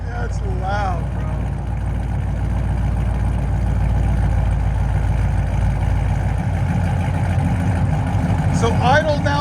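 A 2017 Chevy SS (Holden) with a 6.2L V8, headers and straight-pipe exhaust idles in a steady, loud, lumpy rumble close by, with people talking over it near the start and end.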